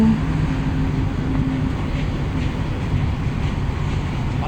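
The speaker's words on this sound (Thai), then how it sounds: "วันนี้เราจะมาถ่ายขบวนรถ สามสี่หนึ่ง ขบวนรถสามสี่หนึ่ง" A continuous loud rumble of Thai suburban commuter train 341 from Bangkok to Kaeng Khoi Junction passing, steady and close, with rattling and clattering throughout and no voices.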